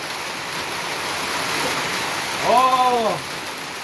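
Rain falls at a rural garden house in a steady, broad hiss. A short voiced exclamation cuts in briefly near the end.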